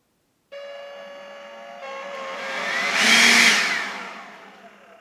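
A Ryobi 18V cordless leaf blower starts abruptly with a whirring motor whine, then rises into a louder rushing airflow as the throttle is pulled harder before easing back slightly, close and alone.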